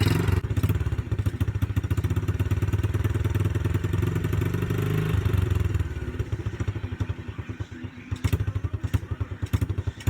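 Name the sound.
old Baja Motorsports dirt bike engine running badly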